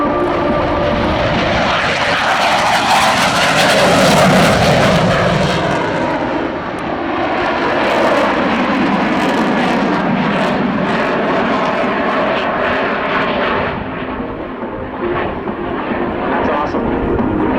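A Canadian CF-18 Hornet jet roars loudly at an airshow as it powers up for takeoff, a sustained, swelling engine blast that fills the entire stretch with no talking over it.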